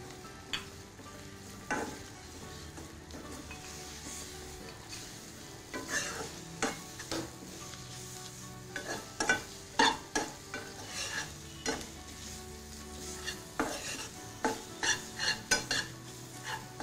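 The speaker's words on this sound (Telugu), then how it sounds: "సో చికెన్ యాడ్ చేసిన తర్వాత ఒక 5 మినిట్స్ మంచిగా సాతే చేయాలండి" Chicken sautéing in a pan, with a continuous sizzle and a long run of irregular spatula scrapes and knocks against the metal that come closer together toward the end.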